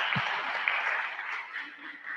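Audience applause at a commemorative gathering, a steady wash of many hands clapping from a distance, fairly soft and even, fading slightly toward the end.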